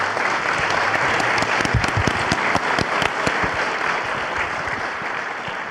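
A large audience at a hydrofracking debate in Dundee claps steadily and loudly. The dense, sustained applause fills the room for several seconds and fades only slightly toward the end.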